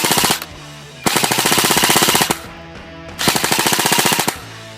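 An airsoft gun fitted with an Evike high-speed 40,000 RPM tornado motor fires three rapid, loud bursts of full-auto clatter, separated by brief pauses.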